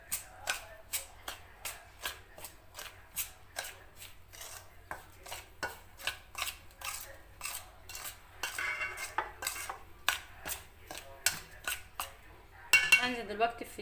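Flour, oil and vanilla for Ramadan sweets are stirred in a bowl, making repeated sharp clinks and scrapes of a utensil at an irregular rhythm, close and fairly quiet, with a brief rustle near the end.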